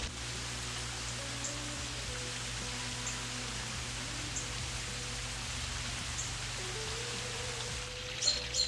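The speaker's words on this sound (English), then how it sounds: "does a pretty good job with that fountain. Real soft and soothing." An Intex waterfall pool fountain runs at dusk, giving a soft, steady splashing hiss like light rain that stays even and low throughout, with nothing else standing out.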